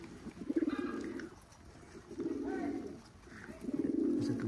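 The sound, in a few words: pigeons cooing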